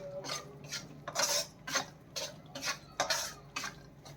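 Gram flour roasts in ghee in a pan for halwa while a spoon scrapes and stirs it, a rhythmic series of short metallic scrapes and clinks about twice a second, close and fairly quiet.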